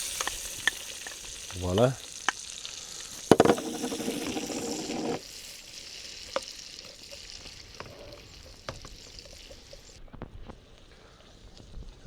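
Peppers and onions sizzle in a pan at an outdoor beach camp on a breezy coast, a continuous close hiss with a few sharp clicks and a loud burst of spitting early on, then settling; a voice briefly speaks.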